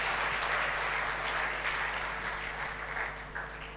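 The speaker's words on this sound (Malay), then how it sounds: "Satu tepukan untuk diri kita masing-masing" A hall full of student leaders at a national student council convention claps together, a broad continuous wash of applause heard from some distance over a low steady hum.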